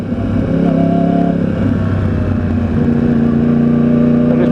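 A Yamaha R1 sport motorcycle engine revved hard and held high, a loud, close, continuous buzzing roar with a steady pitch throughout.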